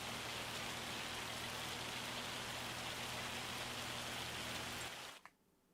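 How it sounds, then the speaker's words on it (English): Heavy hail and rain pound down steadily in Farming Simulator 25, a dense, loud wash of drumming that holds for about five seconds before cutting off abruptly into near silence. "I'm going to turn that weather down because that hail is very, very high."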